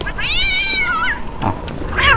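A cat meows in a video game: one long, wavering meow followed by a couple of shorter mews, loud and close against a noisy game background.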